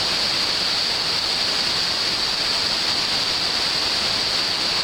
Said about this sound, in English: waterfall, rapids.